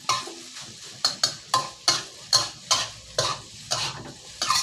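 Rice mixed with shrimp paste being stir-fried, with about a dozen rhythmic scraping strokes of a spatula against the pan over a soft sizzle, close and alone.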